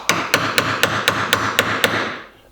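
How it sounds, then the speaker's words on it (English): Hammer strikes a chisel cutting out wood for a bench vise installation, nine sharp evenly spaced blows close up, loud and steady, with no talk. "So this section right here, I'm going to chisel out"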